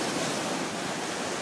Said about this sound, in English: We sleep with the sound of the waves